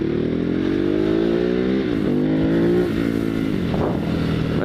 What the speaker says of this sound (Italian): Il motore bicilindrico spinge bene ad ogni, sia i bassi che agli alti regimi